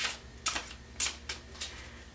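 Tarot cards being shuffled by hand, with several short papery riffles and flicks spaced irregularly, fairly quiet and close.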